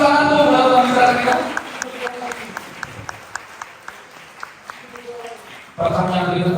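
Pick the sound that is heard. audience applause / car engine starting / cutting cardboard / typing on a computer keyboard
audience applause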